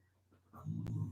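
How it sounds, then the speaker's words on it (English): A dog gives a brief, quiet low growl with a soft whimpering edge, close by and alone for about a second. "What are you fussing at? Who you growling at?"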